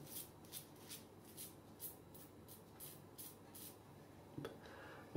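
Safety razor, an Edwin Jagger DE89L, shaving against the grain on a last pass, giving quiet rhythmic scraping strokes, about eight short rasps in quick succession, close and faint, with no talking.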